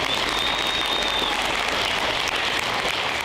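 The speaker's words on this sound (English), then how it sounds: "So again, round of applause." Audience at the Idaho Fine Arts Academy 2024 graduation ceremony applauding, a dense, steady wash of clapping that holds at a constant level for the whole stretch, with no voices breaking through.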